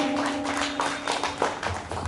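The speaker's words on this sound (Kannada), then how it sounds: "ಜೋರಾದ ಚಪ್ಪಾಳೆ ಬರಲಿ." A hall audience at a Kannada Rajyotsava singing event claps for a singer, a brief patter of moderate applause with uneven, overlapping claps.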